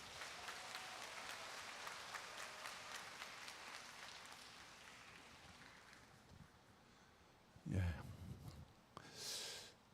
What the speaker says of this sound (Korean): 우리 큰 박수로 회장님 모시겠습니다